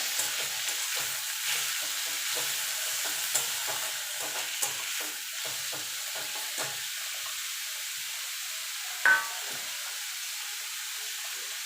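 Radish greens sizzling and frying in a pan with onions, a steady hiss of oil with occasional stirring clicks and one sharper scrape near the end, close and moderately loud.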